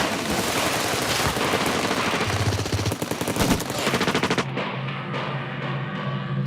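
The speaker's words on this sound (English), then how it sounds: "As they reach midstream, the Bolivian soldiers open fire." Dense, loud bursts of rapid automatic gunfire from Bolivian soldiers' weapons in a battle at a river crossing, continuous rattling shots that cut off abruptly near the end, leaving faint scattered sounds.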